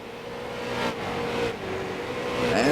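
Street stock race cars run at USA International Speedway. A broad, rising engine roar grows steadily louder, with passing surges from cars heard from the distance.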